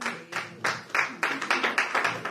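Audience at a Congolese Mother's Day celebration clapping for a woman honoured on stage, a short ragged burst of hand claps that builds into steadier applause.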